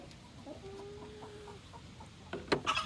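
A broody hen clucks angrily nearby, a drawn-out protesting note followed by short clucks, then a louder burst of agitated squawks at the end; no talking.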